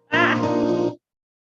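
A cat meows once, close and loud, in a single drawn-out call of about a second, during an online city council meeting; no talk overlaps it.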